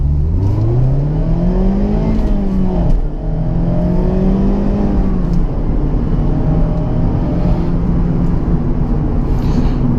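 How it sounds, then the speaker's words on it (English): A Mazda Miata accelerates hard in first gear, its engine note climbing and dipping in a loud continuous drone heard from inside the car. "Do a little acceleration right here,"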